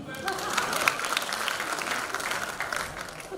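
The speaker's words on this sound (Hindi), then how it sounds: "इनके लिए ताली बजाओ।" An audience at the Dhiraj Pratibha Samman 2026 ceremony by Matthil Samanway Samiti bursts into sustained, dense applause from many hands, with a few louder claps standing out and crowd noise mixed in.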